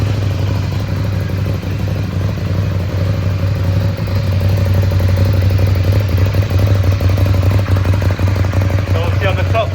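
A 2016 Ducati Scrambler 800 Icon motorcycle idles steadily after a button start, a close, even low thrum with a constant tone, while a voice speaks over it.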